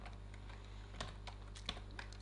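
Computer keyboard typing while VBA macro code is entered, a run of light clicky keystrokes with a few sharper taps over steady low background hum, no talking.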